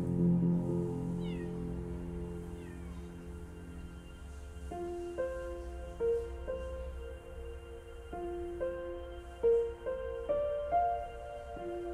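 A cat in the video game Copycat meowing repeatedly in soft, drawn-out cries over a quiet musical background, becoming more frequent and insistent toward the end.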